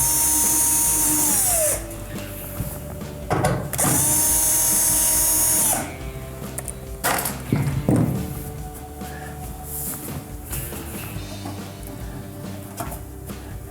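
Powered 1/4 inch nut driver backing screws out of a Maytag dryer top panel, two high whirring bursts of a few seconds each, close and loud, followed by quieter clicks and handling of parts.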